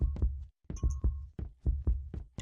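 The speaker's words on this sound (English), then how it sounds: "I swear to fuck I'm hearing like two different heartbeats." Steady, heavy video game heartbeat thumps in a repeating double rhythm, deep and close, with a faint high tone briefly ringing between beats.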